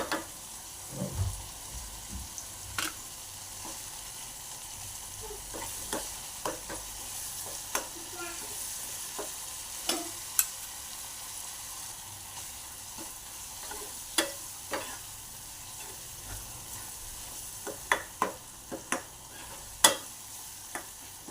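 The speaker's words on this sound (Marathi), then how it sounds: "छान असं तेल सुटेपर्यंत मसाला एकजीव होईपर्यंत आपण मसाला भाजून घेऊया 5 मिनिटे।" Homemade onion-garlic masala roasting in oil for dhaba-style whole masoor dal, a low steady sizzle broken by scattered spoon scrapes and clicks spread across the stretch, fairly quiet and close.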